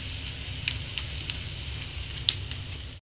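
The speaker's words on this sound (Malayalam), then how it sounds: "ഇഞ്ചി ഒന്ന് നന്നായിട്ട് വഴറ്റണം, ഇഞ്ചിലെ വെള്ളമൊക്കെ എല്ലാം പോകണം" Ginger sautéing in hot oil for a dried bitter gourd and raw mango pickle, a steady close sizzle with a few faint stirring clicks and no talk.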